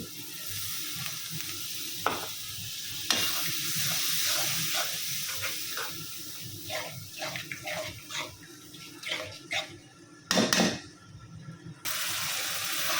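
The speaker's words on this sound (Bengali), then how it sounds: "এখন হলো ওই মশলাটা ভালোভাবে পানি দিয়ে কষায় নেব" Spice paste with chili, coriander and cumin sizzles and bubbles in a pan after water is added, with stirring scrapes and clinks and a few louder sputtering bursts near the end.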